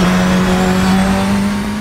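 Simulated race car engine from an Assetto Corsa mod at the Nordschleife, a loud steady drone holding one pitch with a dense harmonic buzz and no voices.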